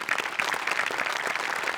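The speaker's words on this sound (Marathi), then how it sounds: "सगळ्यात आधी मोठे सरांसाठी खूप जोरदार टाळ्या व्हायला पाहिजेत" A studio audience at a Marathi television comedy show claps in steady, dense applause that holds at an even level throughout, with no voices standing out.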